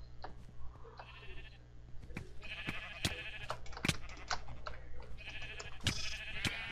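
Sheep bleat repeatedly in a Minecraft arcade minigame, short nasal cries coming in quick overlapping bursts among sharp clicks and game noises, fairly close and clear.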